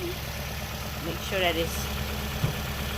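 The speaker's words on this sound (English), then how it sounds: "Engine is quieting" A repaired car engine idles smoothly and steadily, an even low hum running under a man's brief speech.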